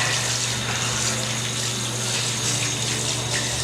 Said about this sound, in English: I had to give it some soap and water under the sink